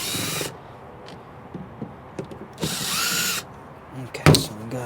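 A power drill whirs in two short, loud bursts, removing screws from a plastic panel on a Jeep XJ, with small clicks and handling noises in the quieter gaps between.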